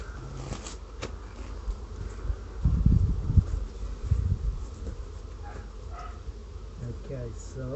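Honey bees swarm around an open backyard hive during an inspection, a steady close buzzing that swells in the middle of the clip, with a person talking faintly underneath.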